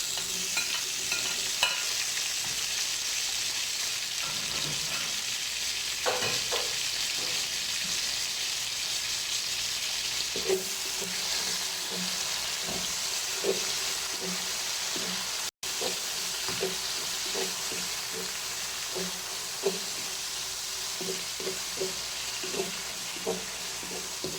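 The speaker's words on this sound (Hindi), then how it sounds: "अभी हम इसमें टमाटर डालेंगे।" Tomatoes hitting hot oil in a pan for chana pulao, a steady loud sizzle and hiss with scattered scraping stirs and clinks from a utensil, no voices.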